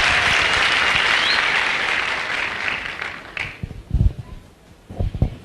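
Audience applause, a loud sustained burst of clapping that fades after about three seconds into a few scattered claps and thumps.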